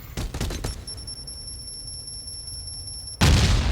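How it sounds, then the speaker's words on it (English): Bombs detonate in the Meet Your Maker video game: a few sharp blasts up front, a sustained high electronic tone through a quiet stretch, then a loud, broad explosion burst at the end. "So he misses the bombs above him."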